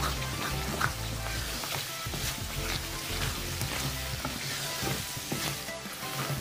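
Sweet potato halwa with cardamom powder is stirred in a hot pan, giving a continuous thick sizzle and bubbling with repeated scraping strokes of the spoon, close and steady.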